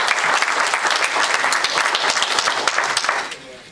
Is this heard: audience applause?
yes